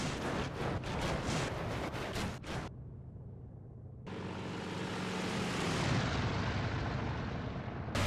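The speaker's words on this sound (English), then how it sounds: "It's artillery." Artillery fire in IL-2: Great Battles on the Eastern Front, heard from a Focke-Wulf 190: a series of sharp booming bursts over engine drone, then a muffled lull and a long, loud roaring wash of sound.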